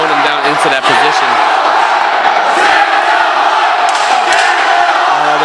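A crowd at a grappling match roars and cheers steadily and loudly throughout, with shouts and a voice mixed into the noise.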